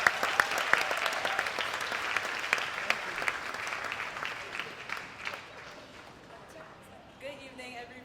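An audience at a school gala claps steadily to welcome a poet, a sustained wash of applause that fades gently toward the end.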